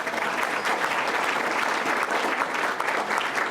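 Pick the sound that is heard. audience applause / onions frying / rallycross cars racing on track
audience applause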